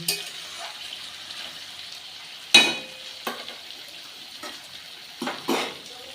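Pui shak stems frying in a pan with rohu fish oil: a faint steady sizzle broken by a few louder bursts of spattering and scraping as the stems are moved, heard up close with no speech.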